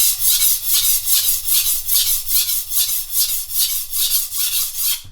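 A broken chef's knife tip is ground by hand with a steady back-and-forth rasp, about a dozen even strokes in a loud, regular rhythm, with no talking.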